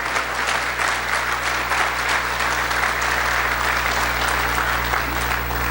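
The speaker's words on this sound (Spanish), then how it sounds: "Si le va a dar ese aplauso a Él," A church congregation at a Sunday service applauds continuously, a dense, loud and even wash of many hands clapping throughout.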